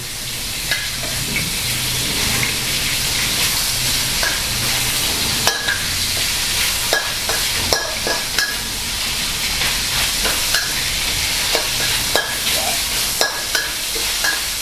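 Pork being stir-fried in a pan for Mama pad see ew gives a steady close sizzle broken by regular scrapes and taps of a spatula against the pan, with no one speaking.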